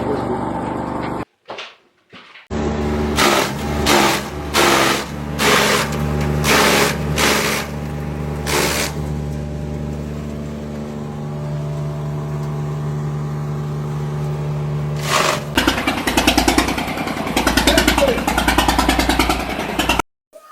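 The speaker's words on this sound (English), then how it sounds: "This particular machine is a multi-purpose machine. It is a turning machine." A multi-purpose turning machine on a farm making poultry and livestock feed runs with a steady motorized drone and a sustained tonal hum, broken early by sharp clanks and knocks, then grows louder near the end.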